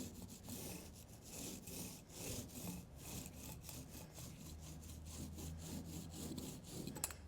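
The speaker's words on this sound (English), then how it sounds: "I'm using a 1/4 inch foam roller here." A 1/4 inch foam roller spreads paint across wood, giving a loud rhythmic rolling rasp of back-and-forth strokes with no talking.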